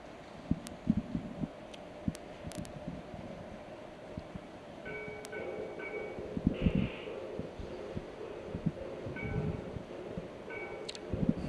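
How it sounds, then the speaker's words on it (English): A model Reading steam engine train runs on a kid-friendly layout, its rumbling chuffs steady throughout with a few brief whistle-like tones midway and scattered clicks, fairly quiet and without talk. "We're starting up a really nice Reading steam engine here"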